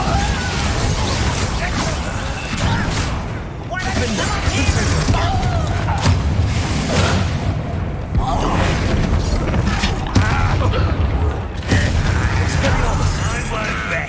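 Bombarda and Incendio spells burst and crackle through a Hogwarts Legacy combat fight, with booms, pops and crashes layered over dense game music and shouted voices, continuous and loud throughout.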